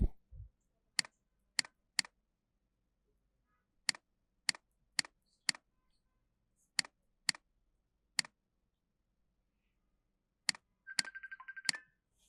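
Keys on a computer keyboard are typed in sparse, crisp clicks, singly or in short bursts separated by quiet pauses, with a brief faint buzz near the end.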